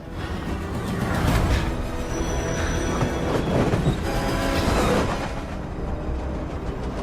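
A train roars past steadily in a tunnel with wheels squealing and clattering, a loud, continuous rumble that eases slightly toward the end.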